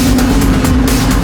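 A TVR sports car on the Fast 9 film set drives past with a steady, loud engine drone and a constant low hum, close by, with no talk over it.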